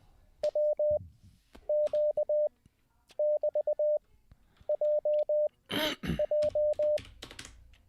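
Morse code CW tones beep alone in short bursts of evenly pitched dits and dahs, grouped in rhythmic clusters with brief pauses between them, over a quiet background and a short burst of noise.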